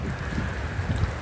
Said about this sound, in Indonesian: Anginnya kenceng banget hari ini